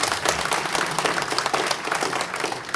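Steady applause from an audience at a property owners' association fall meeting, dense overlapping clapping at a constant level throughout, with no talk.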